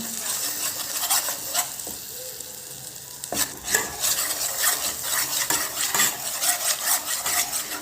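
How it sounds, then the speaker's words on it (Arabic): Flour frying in melted butter in a pan for béchamel sauce, stirred steadily: a soft continuous sizzle with repeated scraping of a utensil against the pan and occasional clinks, close and fairly loud throughout. "نزيدو نص ملعقه فرينه، نقليوها مليح في الزبده"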